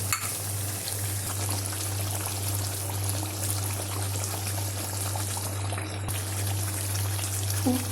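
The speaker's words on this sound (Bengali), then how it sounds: "চিকেনটা দিয়ে মশলার সাথে নেড়ে চেড়ে নিয়েছি। এবার কষিয়ে নেব।" Chicken fries and is stirred with spices in a hot pan, a steady close sizzle with occasional scrapes of the spoon over a constant low electrical hum.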